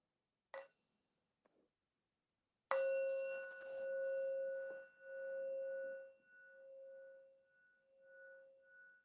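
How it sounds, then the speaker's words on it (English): A meditation bell is struck once lightly, then rung fully, giving a clear, sustained metallic tone that rings on and slowly pulses as it fades, heard alone in a quiet room. "we'll begin the meditation portion now with the sound of the bell."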